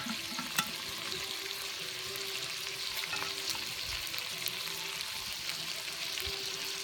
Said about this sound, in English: The bacon's sizzling nice on the fire.